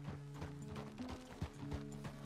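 Horse hooves clip-clopping in a steady walking rhythm in Red Dead Redemption 2, fairly quiet and close, with faint tack and mechanical sounds and no speech.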